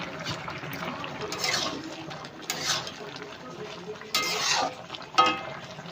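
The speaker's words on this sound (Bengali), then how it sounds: "হালকা নাড়াচাড়া করে নিয়েছি, ফুটে গেছে।" Bengali shukto vegetables boiling in a pot and being stirred, bubbling liquid with a few brief scraping stirs, quiet and close.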